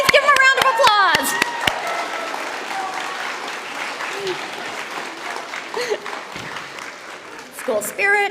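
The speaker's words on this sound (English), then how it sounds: "Give them a round of applause" Audience applause fills a school year-end assembly hall, a dense sustained wash of clapping that starts with sharp close claps, carries on steadily, and swells again at the end while an adult voice talks over the crowd.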